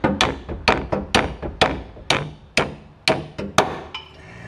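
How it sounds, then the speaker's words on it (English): A hammer strikes a spring hanger on a 2000 Ford Ranger about a dozen times, sharp metallic blows in an uneven but steady rhythm, close and loud with short ringing decays between hits. "So I'll just take my hammer and tap it the rest of the way."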